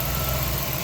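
A 1998 Ford Windstar engine running at idle with a freshly replaced alternator, a loud steady close rumble with a constant low hum and no variation across the short stretch.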